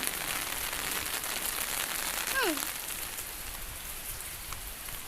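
Steady rain pours down across a surface, a dense continuous hiss with a brief faint whistle-like sweep partway through.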